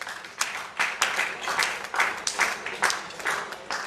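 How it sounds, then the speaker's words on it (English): An audience at a medical association award dinner claps for an honoree. Moderate applause rolls on with uneven surges, and faint voices sit underneath. "Let's give him a round of applause, please."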